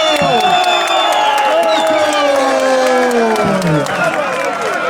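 An audience at a live music event gives sustained applause and cheering, with dense clapping, whistles and a loud crowd roar throughout.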